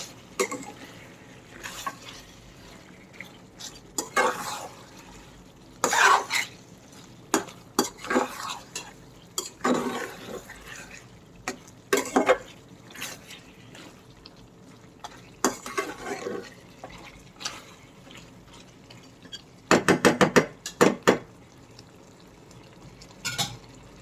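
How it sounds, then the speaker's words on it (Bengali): Potatoes stir-fry with mutton curry in a pan: repeated close scrapes and clatters of a spatula against the metal come in irregular bursts over a soft, continuous sizzle. "এখন আলুটা দিয়ে আবার একটু নেড়েচেড়ে কষাবো"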